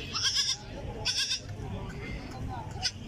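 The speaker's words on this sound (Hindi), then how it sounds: "मक्खी चीनी बकरी देखो" A Makhi Cheeni goat with two kids bleats three times at the Shahpur Kanjra livestock market, loud nasal cries spaced over a few seconds, with people talking and a busy crowd murmuring underneath.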